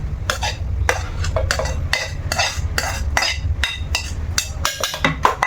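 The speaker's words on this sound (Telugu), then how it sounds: "ఇప్పుడు మిక్సీలో వేసేస్తున్నాను" Ingredients including soaked mango pieces being scooped into a mixie jar, a rapid series of close, loud spoon scrapes and knocks against the jar in an uneven rhythm.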